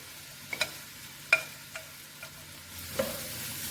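Okra frying in a pan with butter and garlic, a faint steady sizzle broken by several sharp clinks and scrapes of stirring, no voices.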